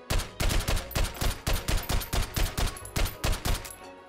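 A VR game gun in Hot Dogs, Horseshoes & Hand Grenades emptied in a steady string of about fourteen loud, close, evenly spaced shots until the magazine runs dry.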